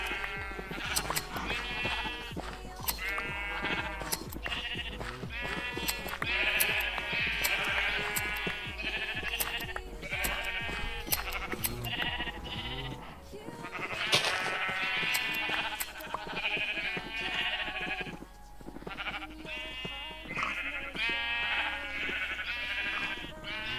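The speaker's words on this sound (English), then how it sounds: "Here's some sheep." Sheep in the video game Minecraft bleat repeatedly, with many overlapping calls coming in quick bursts over steady game background sound, loud and close throughout.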